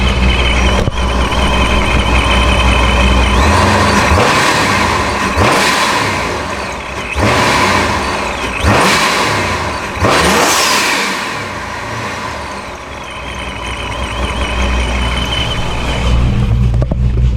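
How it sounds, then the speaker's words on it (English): A Procharged 426 Scat Pack engine revs loudly at close range. Repeated throttle blips rise and fall in pitch over a steady idle, and each rev ends in a sharp blow-off valve whoosh. "I'm gonna give it some throttle and we should hear a blow-off valve noise"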